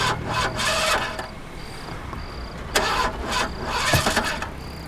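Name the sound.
car engine failing to start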